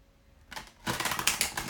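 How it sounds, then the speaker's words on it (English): A short, dense flutter of tarot cards being shuffled close by, starting softly then swelling into a brisk papery riffle, no voices. "Right, one more shuffle for you guys."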